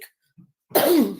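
A single harsh cough up close, preceded by a brief quiet breath.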